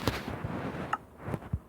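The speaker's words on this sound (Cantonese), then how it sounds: "爆炸嘅 machine gun" Explosive machine gun fire from a modded video game, a few sharp booming blasts spread across the moment, fairly close and punchy, with no talk.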